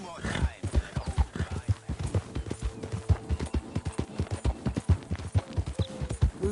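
Horse hooves clip-clopping in steady rhythm in Red Dead Redemption 2, close and continuous, with someone talking over the steps throughout.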